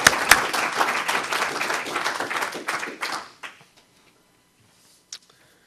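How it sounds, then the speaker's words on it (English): Audience at a theological conference bursts into applause, a dense, fairly loud clatter of many hands for about three seconds before fading abruptly to near silence. "let's give him a little applause"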